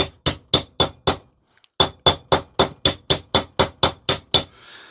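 A hammer taps a socket to seat a new wheel bearing on a three-wheel trailer: about fourteen sharp, loud, evenly spaced metallic strikes, with one brief pause after the first few.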